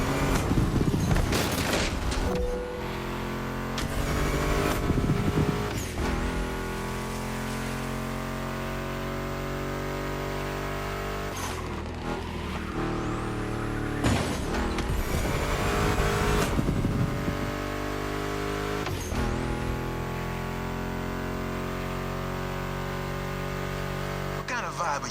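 A Ford Mustang GT muscle car engine in the racing game The Crew Motorfest roars continuously, revving and shifting repeatedly with sharp bursts, loud and close under music and a talking voice.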